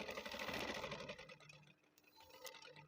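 A sewing machine runs steadily while stitching a shirt, a dense mechanical whir that fades after a second or so, leaving quieter intermittent handling of the fabric.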